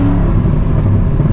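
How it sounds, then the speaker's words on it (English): Car doing a burnout with traction control switched off, wheels spinning freely; a steady, loud engine roar and tire rumble runs continuously and close by without pause. "if I turn traction off, which it's now off, it will just spin like a maniac"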